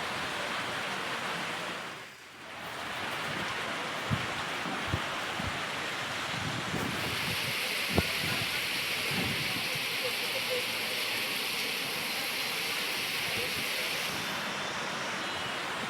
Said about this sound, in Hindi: तो तीनों तस्वीर में बारिश हो रही है और लगातार सड़कों पे पानी भर चुका है।